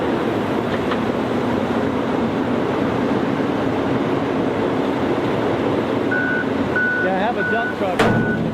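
Repeated reversing beeps from a borrowed truck, a dump truck whose piston broke, sounding in a regular series late in the clip over loud, steady engine rumble and outdoor noise.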